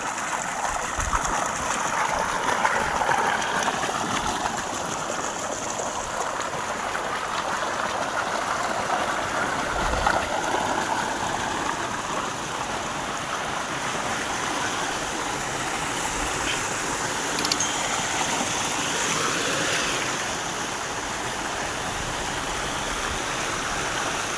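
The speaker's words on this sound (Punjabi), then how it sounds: "ਆ ਝਰਨਾ ਚੱਲੀ ਜਾਂਦਾ ਭਾਈ ਝਰਨਾ ਵਗਦਾ ਹੈਗਾ" Waterfall in the mountains, likely on the Ghaggar, pouring water in a steady, dense broadband rush that holds unbroken for the whole stretch, with no voices over it.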